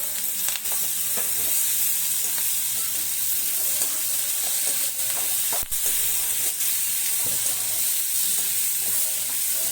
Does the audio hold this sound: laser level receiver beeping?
no